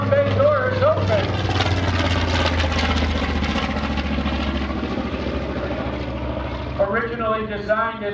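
A Grumman-designed TBM warbird flies over an airshow, its heavy propeller engine droning loudly and steadily throughout, with a commentator talking over a public-address system.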